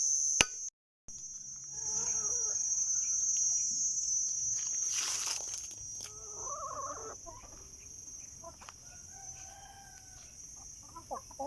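Chickens cluck and a rooster crows amid steady outdoor ambience on a damp morning after rain, with a constant high-pitched insect-like drone running through the whole stretch.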